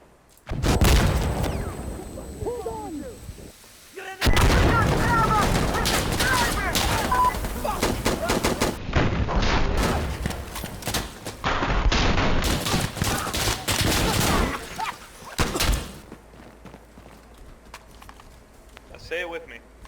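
Gunfire in the video game Insurgency: Sandstorm, with dense bursts of rapid shots and booming reports that repeat in clusters over most of the stretch, loud and close, while players talk over it.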